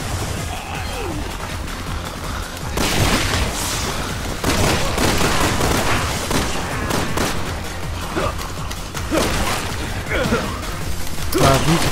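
Gunfire crackles through a Resident Evil 6 Mercenaries split-screen round in an urban setting, with repeated bursts of shots and crashing impacts layered over a constant action din. Players talk over the noise at times.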